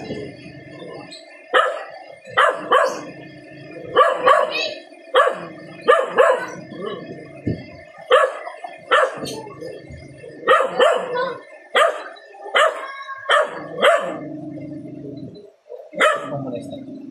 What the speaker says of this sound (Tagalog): May aso talaga.